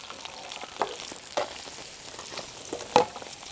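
Garlic sizzles and crackles steadily in frying oil at close range with a few louder pops and stirring clicks, no voices present.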